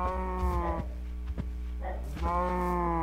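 A Minecraft cow moos twice, long drawn-out synthetic lowing calls with a short gap between them, loud and close.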